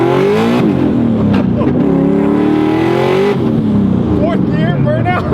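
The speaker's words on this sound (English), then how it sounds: "Just lit them up through both gears." A 700hp Scion FR-S roars through a burnout across two gears, engine revving hard and climbing in pitch with tire squeal, loud and close throughout, with excited voices talking over it.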